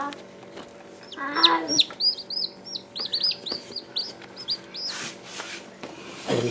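Black Ayam Cemani chickens cluck and chirp close by, a string of short high calls and soft clucks repeating over a low steady hum.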